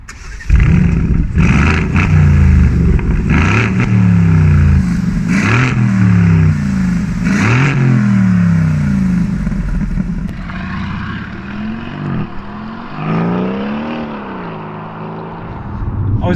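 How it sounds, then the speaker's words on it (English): An Aston Martin Vantage engine revs hard repeatedly at close range, rising and falling in several sweeping bursts before settling into a lower, rumbling idle with occasional blips. "let's hear that engine roar and take it for a spin"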